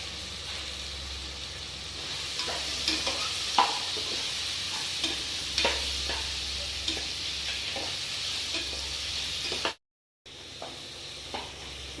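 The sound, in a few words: sautéing tomatoes in pan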